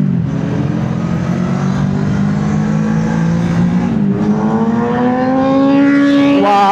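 Kawasaki ZH2 and Hayabusa 1000cc sports motorcycles accelerate on the road in a loud, sustained engine roar that climbs in pitch toward the end as the bikes pull away.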